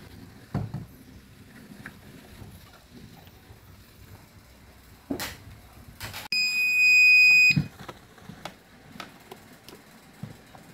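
A backup UPS unit, just fitted with a new battery, gives one sharp, steady electronic buzzer beep lasting about a second amid scattered handling clicks and knocks on the unit.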